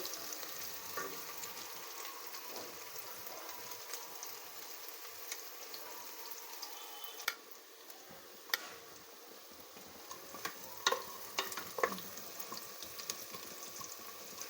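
Vegetable khichdi ingredients frying in a pan, a quiet, steady sizzle with scattered light clicks and taps of a utensil against the pan, no voices.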